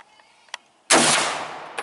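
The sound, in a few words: gunshot hitting a silver pasta can at the shooting range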